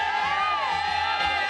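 A wedding audience at Dhuri Resort shouts together in a loud, dense crowd roar with whoops and cheers, filling the whole moment without pause.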